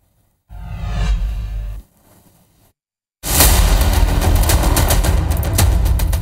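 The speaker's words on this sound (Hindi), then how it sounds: "गोलियों की गूंज से दहल उठा।" Gunfire sound effect in a Madhya Pradesh news report on a shooting in Chhatarpur: a short burst of firing, a pause, then a loud sustained rattle of rapid shots to the end, with no talk.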